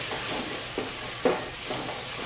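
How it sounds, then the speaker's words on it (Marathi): Spice masala roasts in hot oil in a pan for amti, a steady soft sizzle with a few brief stirring scrapes, close and continuous, with no voices. "पटकन मसाला नाही तेलामध्ये खूप छान भाजायला पाहिजे"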